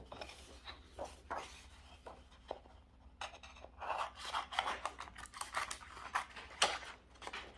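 Scissors snip through paper while a greeting card is cut out, giving a quiet, irregular run of close crisp cuts and rustles that grows busier toward the end.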